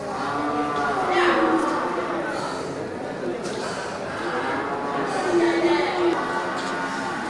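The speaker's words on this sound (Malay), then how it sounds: "banyak kerbau-kerbau indukan dengan pedetan jantan dan betina ya, pedetan super semua nih kan" Water buffalo cows and their calves low and moo at a livestock market, several animals calling near and far over a steady crowd murmur.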